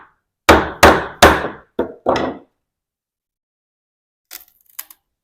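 Five sharp, loud cracks of a sash pocket chisel prying wood pieces out of a window sash frame, coming in quick succession near the mic, then a short pause and a few faint light taps of wood at the end.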